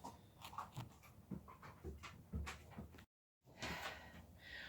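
Dog in the New Zealand bush, quiet and close, panting in short uneven breaths with soft whining and faint shuffling, broken by a brief dead silence before the breathing resumes.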